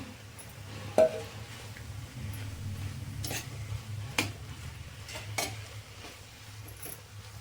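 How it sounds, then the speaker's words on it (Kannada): Chopped onions and garlic fry quietly in a pan for a momo filling, with a soft sizzle under a low hum and occasional distinct clinks and scrapes of a spoon stirring against the metal. "ಎಲ್ಲ ಹೀಗೆ ಸ್ವಲ್ಪ ಹೊತ್ತು ಫ್ರೈ ಮಾಡ್ಕೊಳ್ಳೋಣ"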